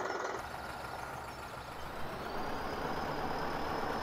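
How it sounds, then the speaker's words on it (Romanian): A UTB tractor in Farming Simulator 17 idles and runs with a steady low engine rumble and a broad mechanical hiss, holding at an even level before a slight rise toward the end. "UTB-ul ăsta e cam cel mai folosit tractor de până acum."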